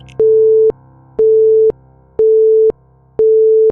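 Phone line busy tone after a call is hung up: four steady, loud beeps evenly spaced about half a second apart, alone with no voices.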